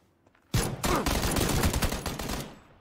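A sudden loud burst of rapid handgun fire in PlayerUnknown's Battlegrounds, shots piling into a dense volley for about two seconds before tapering off.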